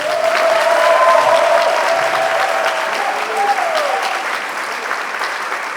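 Church congregation applauding steadily during a Sunday worship service, a broad, even wash of clapping that fills the room at a consistent loudness, with a sung or held voice line faintly rising through it.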